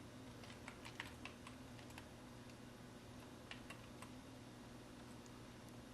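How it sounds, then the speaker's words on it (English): Steady keystrokes on a computer keyboard while entering text with a type tool, irregular taps clustered in short bursts over a low constant hum, close and fairly quiet, with no speech. "and start typing"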